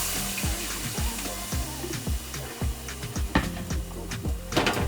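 Beef broth poured into a pot for one-pot chicken and rice, a steady liquid splashing and gurgling with rhythmic knocks throughout, close and fairly loud.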